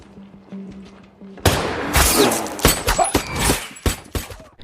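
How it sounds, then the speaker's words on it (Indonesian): Gunfire from a film scene as henchmen open fire: after a quiet stretch, a loud, dense volley of sharp cracks and thuds erupts in rapid irregular bursts and continues to the end. "Carnage menyuruh anak buahnya menembak Ellie"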